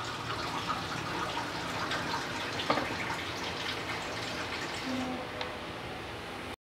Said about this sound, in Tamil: தண்ணி ஊற்றிட்டேன்.